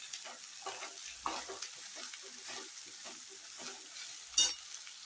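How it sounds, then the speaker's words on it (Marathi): Chopped okra tossed into oil already holding fried onion and chili, stirred with a soft, intermittent sizzle and scraping strokes, plus a sharper clack near the end. "आता ही चिरलेली भेंडी सगळी याच्यात घालायची आहे आणि चांगली परतून घ्यायची आहे."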